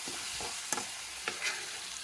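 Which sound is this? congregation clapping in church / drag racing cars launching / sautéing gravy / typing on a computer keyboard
sautéing gravy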